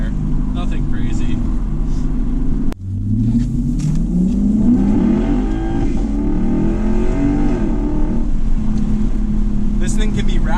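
A 2008 Lexus IS F accelerating hard and sliding sideways, a loud close engine roar climbing in pitch after a brief sharp break, with steady road rumble underneath throughout.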